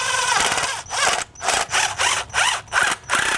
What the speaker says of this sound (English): And then we'll tighten down the three bolts that are holding it in.